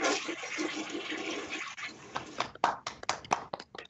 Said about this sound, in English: That's the toilet flush of the night.